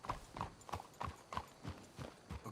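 Horses' hooves clip-clop at a steady walking rhythm on a path in Red Dead Redemption 2, about eight even, close strikes with no talk over them.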